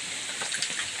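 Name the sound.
rain falling in Quezon Province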